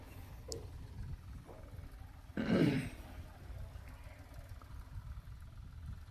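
A tractor engine gives a steady low rumble throughout, swelling briefly into a louder throaty surge before settling back.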